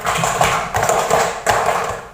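Hands clap in a children's-style clapping game, a few sharp claps grouped in quick bursts at roughly regular intervals, close and moderately loud with no voices.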